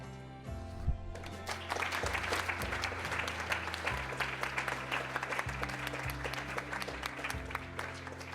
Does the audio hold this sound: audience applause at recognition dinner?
yes